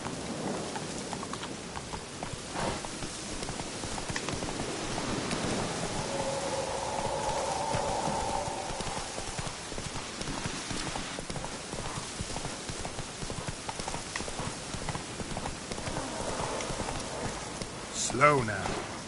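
A horse trots with steady clip-clopping hooves in The Witcher 3 video game, the rhythm continuing throughout against a rainy ambient backdrop, with talk over it and a brief sharper sound near the end.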